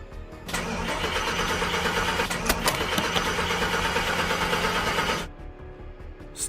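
A car engine cranks steadily for about five seconds, a loud, close, continuous grinding whir that cuts off without catching, then quiet.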